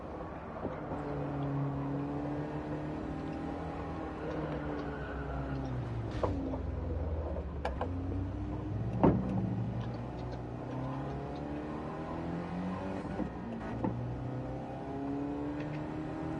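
Race car engine in the video game Gran Turismo 7, revving continuously with pitch sweeping up and down as it climbs and falls through the revs, fairly quiet and with no talk over it.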